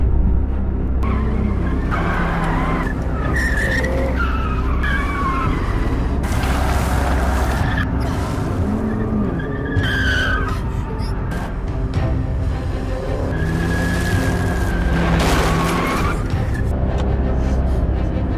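A film car chase on a dirt road: loud engine roar and rumbling motion with brief tire squeals and skids, mixed with a dramatic soundtrack and occasional voices.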